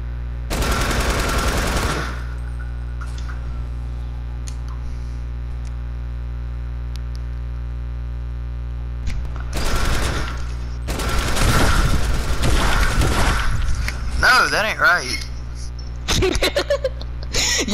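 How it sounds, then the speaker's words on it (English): Light machine gun fire in Fortnite, rapid sustained bursts in a short opening volley and several longer later ones, loud and close over a constant low electrical hum. "you spamming the freaking LMG isn't right at all"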